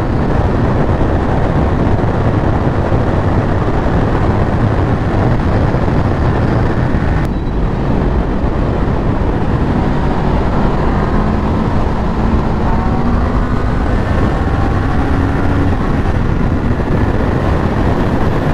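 Honda CBR500R motorcycle riding through twisty roads, heard as a loud, steady roar of engine and wind noise throughout, close and unbroken, with no talk.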